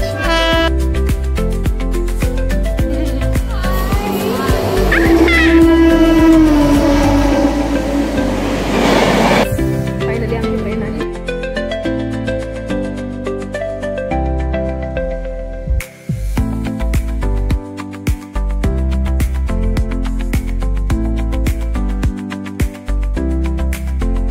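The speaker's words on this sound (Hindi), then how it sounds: "अभी एक्सप्रेस आ रही है, बहुत ही तेजी से, खूप लांब आहे." An express train rushes past at high speed, with a loud roaring build and a horn-like tone, then the rhythmic clatter of wagons going by, with no voices.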